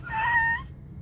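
A single drawn-out cat meow, close and clear, lasting about half a second and fading into near silence, with no talk.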